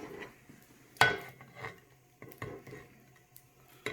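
Metal spatula scraping and tapping a pan while plating fried eggs and bacon, a few distinct clanks and scrapes in quick succession at close range, no talking.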